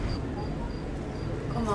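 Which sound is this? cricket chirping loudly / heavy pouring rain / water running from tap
cricket chirping loudly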